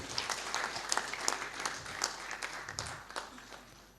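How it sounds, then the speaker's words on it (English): An audience at a tax conclave session breaks into sustained applause welcoming a speaker, a dense patter of clapping hands that swells and ebbs over several seconds at moderate distance, with no talk over it. "Please welcome Sir with a huge round of applause."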